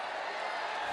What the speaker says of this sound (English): The crowd are enjoying this moment.